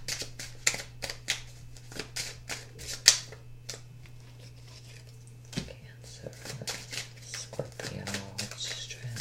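Tarot cards are taken out and shuffled, giving a rapid series of crisp flicks and riffles close by, with soft handling noises and a low steady hum underneath.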